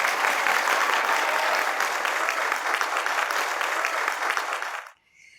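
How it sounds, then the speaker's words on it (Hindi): Dense audience applause fills the hall evenly for about five seconds, then cuts off abruptly into near silence. "अब अपने लिए तालियां बजा दें।"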